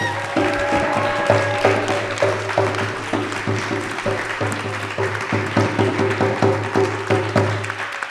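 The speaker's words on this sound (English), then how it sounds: "Can we get one more round of applause for our incredible panelists?" Audience at a panel event breaks into sustained applause for the panelists, a dense steady wash of clapping over a low constant hum.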